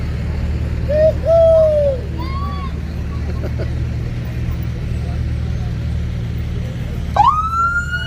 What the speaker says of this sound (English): There's the siren